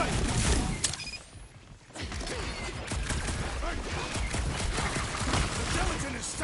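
Gunfire aimed at a charging jelly creature in the Guardians of the Galaxy video game, a dense rattling burst of rapid shots and mechanical clatter, briefly thinning before resuming steadily at close range.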